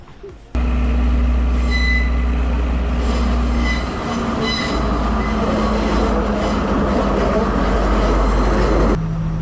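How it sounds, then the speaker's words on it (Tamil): A tourist train crossing Nine Arches Bridge in Ella, Sri Lanka, makes a loud, steady rumble and clatter of wheels and carriages that runs almost the whole time before cutting off abruptly near the end. "இப்போ வந்து பார்த்தீங்கன்னா ஒரு ட்ரெயின் இந்த ட்ரெயின் வந்து டூ டூரிஸ்ட் யூஸ் பண்ணுற ட்ரெயின்"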